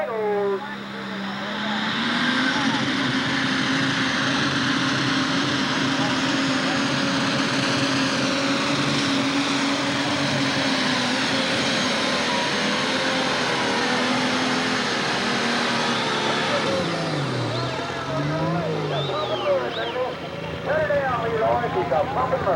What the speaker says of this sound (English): Leroy Mason, alcohol burner, 766 binder, a pretty strong running piece of tractor here, gang.